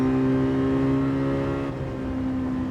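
Honda engine with VTEC and upgraded cams revving hard in Gran Turismo 7, a loud sustained high-pitched whine held near the limiter with a steady droning tone throughout.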